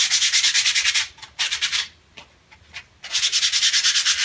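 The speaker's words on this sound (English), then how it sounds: "That means sanding with a piece of 80 grit sandpaper." 80-grit sandpaper rubs back and forth over wood in quick rhythmic strokes, three bursts of scratchy sanding separated by a short pause with lighter touches.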